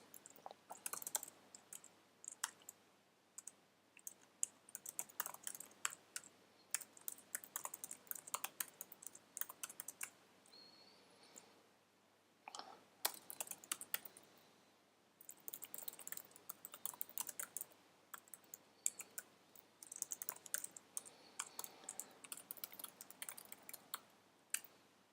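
Typing on a computer keyboard, quick irregular bursts of light clicking keystrokes with short pauses between phrases, close and fairly quiet, no talking.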